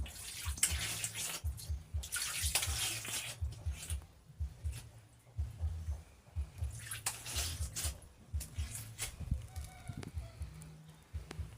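Hands being washed under running water outdoors, with gushing splashes and pauses in an irregular rhythm close by, over a low background rumble.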